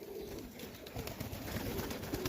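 Highflyer pigeons coo at the loft, soft low repeated coos close by, a quiet continuous murmur with no talking.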